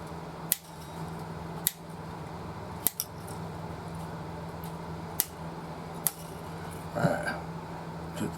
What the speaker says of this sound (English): Cutters right here, we should cut these right off.